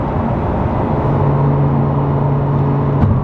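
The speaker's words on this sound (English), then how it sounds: "Again, this is a 10-year-old car. Supercharged." A supercharged ten-year-old car accelerates hard, its engine a loud, steady drone that holds close and constant for the whole stretch, with no voices over it.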